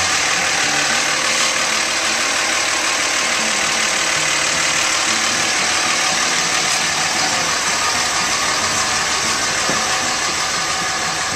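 A 2007 Dodge 3500 pickup with a Cummins turbo diesel engine idles with a steady, loud, slightly knocking rumble that stays close and unbroken throughout.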